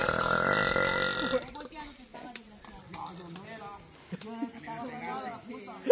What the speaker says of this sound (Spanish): escuchen el eructo